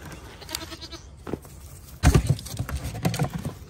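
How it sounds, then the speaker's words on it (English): Goats restrained on a chain shuffle and clatter nearby, with hooves scraping and knocking and a chain rattling. A sudden louder scramble comes midway, followed by continued restless movement. "These are goats, not camels."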